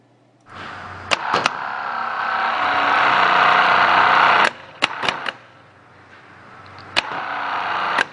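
A starter motor from a 1971 Cadillac Eldorado carrying a 1976 engine whirs under a heavy current draw in a shop, in a strained run of a few seconds with sharp clicks and clacks before, during and after.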